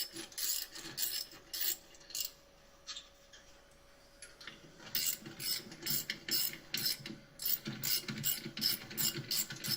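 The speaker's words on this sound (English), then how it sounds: "I'll just do this with the ratchet" A hand ratchet turns a bolt in rapid bursts of close, crisp clicking, pausing briefly before resuming in quick repeated strokes.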